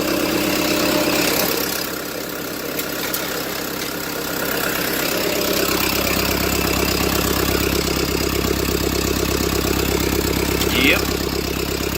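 An ASV RT120 track loader idles steadily with a faint whirring from its A/C compressor spinning up partway through. The engine's low, even throb holds throughout, and a voice speaks briefly over it.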